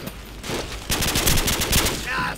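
Bursts of rapid automatic gunfire in Call of Duty, set in Rio's Rocinha, rattle in quick clustered shots after a brief lull, loud and close, with faint voices mixed in.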